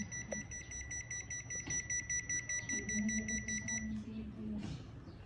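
Household appliance showing an error code gives a series of rapid electronic beeps, fairly faint, with a low hum and brief indistinct talk underneath.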